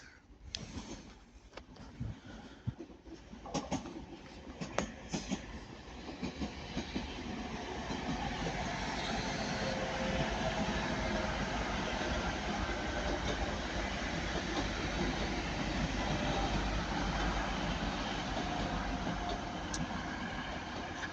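TransPennine Class 185 diesel trains pass on the line at Ardwick, beginning with scattered clicks and rumbles, then building into a sustained rolling roar of wheels on rails that holds steady through the rest of the pass, with no talk.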